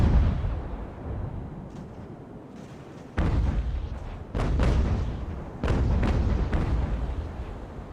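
Sailing ship cannons fire in a naval battle in Ultimate Admiral: Age of Sail, a series of heavy booming shots with rolling rumble between them, several distinct blasts across the stretch.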